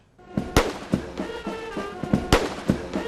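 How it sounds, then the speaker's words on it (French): 21-gun salute of blank cannon rounds fired from the forecourt of Jubilee House, the presidential palace in Accra, Ghana: a rapid run of sharp booming blasts, several close together, each echoing outdoors. "21 coups de canon tirés à blanc résonnent depuis le parvis du Jubilee House d'Accra au Ghana"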